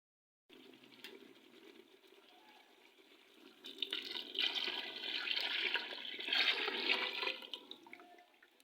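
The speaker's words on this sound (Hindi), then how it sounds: "अब मैं इसके अंदर पानी डालूंगी जो कि मैंने इसमें से निकाल के रखा।" Water pours and splashes into a cooking pot, starting gently, then swelling louder and fuller before easing off near the end.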